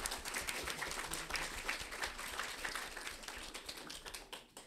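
A large seated audience at a French talk applauds steadily, a dense, even wash of many hands clapping at a distance, fairly faint, with no talk over it.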